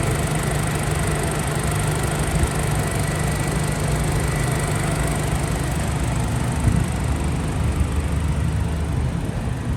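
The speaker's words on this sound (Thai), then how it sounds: "เครื่องยนต์ก็ปกตินะครับ" A 2012 Honda Freed's engine idles with an even, continuous hum and slight vibration, heard up close with no talking.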